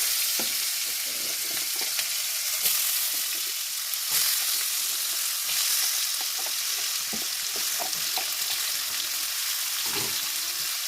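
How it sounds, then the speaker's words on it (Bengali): Potatoes frying in oil in a pan, a dense, steady hiss of sizzling with intermittent stirring clatter from a spoon, close and continuous. "আলুটা একটু ভেজে নেব।"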